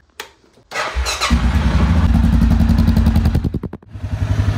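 A quad bike (ATV) engine starts up close by with a clattering crank, catches, and runs at a loud, rough idle with a rhythmic throb before briefly dipping and revving again.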